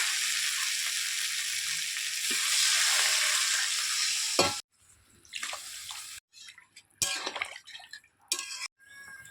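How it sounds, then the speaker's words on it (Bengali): Potatoes sautéed in spiced oil in a pan for a Bengali fish roe curry: a steady loud sizzle first, then broken bursts of stirring and scraping with short gaps between them. "এবার আলুগুলো দিয়ে আরেকটু কষিয়ে নেব"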